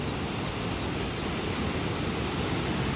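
A swollen, raging river churns with strong surging waves, a loud, continuous broadband roar close by with no pauses and no voices.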